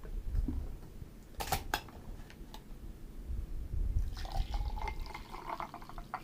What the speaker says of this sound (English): Pour it into the glass.